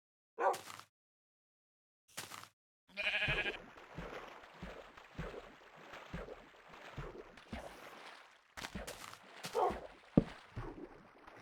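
Sheep bleating in a video game, several separate bleats with gaps between them, the later ones running over a busy stretch of other game sounds and scattered knocks.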